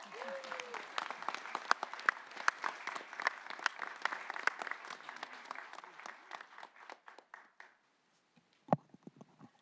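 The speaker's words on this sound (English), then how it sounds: "A round of applause for Leo Fender and the Fender family." Audience applause at a hall of fame induction ceremony, a burst of individual claps from a modest crowd that thins out and stops, followed by a few faint, isolated claps and a brief sound near the end.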